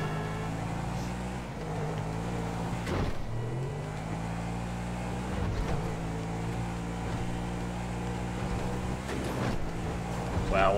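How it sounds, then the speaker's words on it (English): Car engine in the video game GTA V, a steady droning motor with rising revs and wind-like rush under occasional shifts, playing continuously at moderate level. "Michael cannot handle this car."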